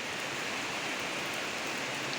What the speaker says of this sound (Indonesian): Maaf ya di luar nih lagi hujan nih lebat